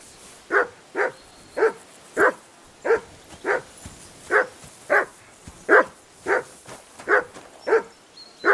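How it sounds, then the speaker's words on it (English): A dog barks repeatedly in the video game Kingdom Come: Deliverance II, about fifteen sharp, evenly spaced barks at a steady pace, loud and close with nothing else in between. "Get that mutt of yours to stop barking, will you?"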